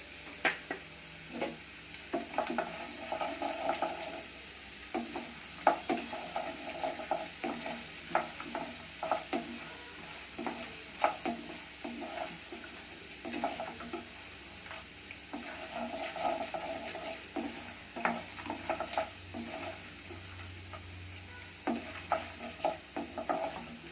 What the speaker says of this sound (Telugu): శనగబెళ్ళు కొంచెం వేయించుకోవాలి.